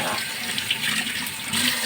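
Tap water runs steadily into a sink while dishes are washed at home, a close, continuous splashing with no talk.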